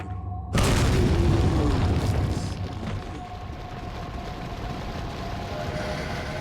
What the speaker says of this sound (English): Alright, I'm gonna throw a grenade at these dudes.